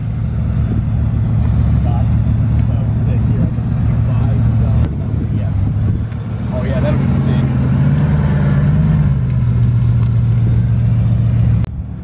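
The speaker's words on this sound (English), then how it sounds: "We're repositioning the cars to get the right shot." Cars being moved and repositioned at Dubai Cars & Coffee, with a steady low engine rumble that swells slightly as a vehicle shifts around nearby, continuous throughout alongside people talking.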